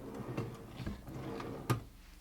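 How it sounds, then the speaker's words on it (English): The pull-out drawer of a heat press slides and clunks, with a few soft rattles and then a sharper knock as it shuts, heard faintly and close without speech. "I really like this pull-out drawer."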